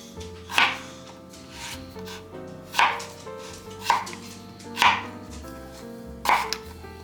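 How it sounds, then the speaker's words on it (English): Potatoes being cut into wedges with a knife: five separate crisp chops on a board, spaced about a second apart, close and clear with no talking. "I'm just gonna cut them. I guess I'm gonna do more of like a potato wedge vibe"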